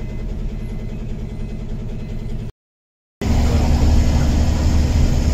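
A car engine hums steadily while driving on a highway among heavy traffic, a constant mid-low drone with a brief dropout, then returning louder and rougher.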